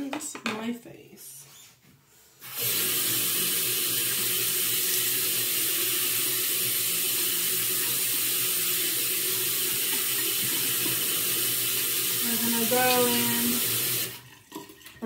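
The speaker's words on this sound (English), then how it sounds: "So I'm gonna go and rinse my face." Water runs steadily from a bathroom sink tap for about twelve seconds during a face rinse, a loud continuous hiss that starts abruptly and stops near the end, with a brief voice or squeak just before it ends.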